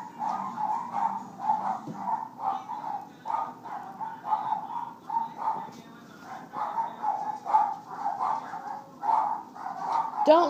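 Small dogs bark and yip repeatedly in a quick, steady stream, moderately close but fairly faint, with murmuring voices in the background.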